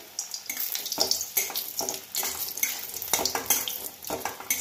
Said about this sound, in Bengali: বড়িগুলো একটু ভেজে নিচ্ছি।